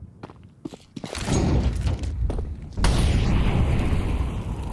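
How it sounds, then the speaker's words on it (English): An incendiary grenade in a competitive shooter at IEM Cologne 2025: a deep burst of flame flares up and roars steadily, following quieter thuds and footsteps. "Nice and deep incendiary to start."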